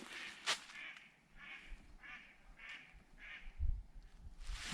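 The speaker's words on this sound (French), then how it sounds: "Ah, des canards, tiens." Ducks on a quiet lake quack in a short series of nasal calls, moderately distant and faint against a calm outdoor background, with a few low rustles and knocks nearby.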